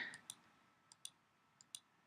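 Five or six crisp, separate mouse clicks spaced unevenly while tracing with the lasso tool in Photoshop, close and dry against a quiet background with no talk.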